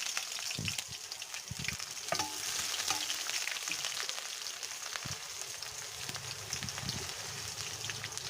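Chopped onions sizzle in hot oil with fenugreek seeds, a steady crackling fry with occasional stirring clatter, heard faintly and alone.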